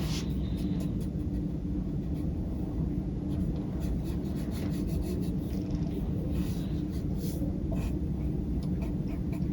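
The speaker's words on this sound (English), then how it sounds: "I am going to draw a scribble on this piece of paper" A pen scribbles continuously across a sheet of paper, a close, steady scratching texture with quick stroke bursts throughout, alone without talk.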